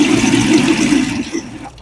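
A Lancer dual-pour fountain soda machine pours root beer, a loud close rush of liquid that holds steady and then cuts off near the end.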